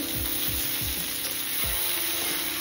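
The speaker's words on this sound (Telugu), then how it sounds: "మధ్య మధ్యలో కలుపుకుంటూ ఉండాలి." Bitter gourd fries in a pan over a medium flame, giving a steady dense sizzle with a few low scraping strokes from stirring near the start and again toward the end. Nobody speaks.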